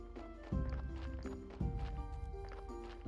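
A donkey's hooves clip-clop in Graveyard Keeper, with a few steady hoof beats set against a soft, tonal game music loop.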